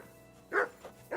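A dog barks in the video game Kingdom Come: Deliverance 2, a few short barks spaced over a quiet background, moderately loud and close.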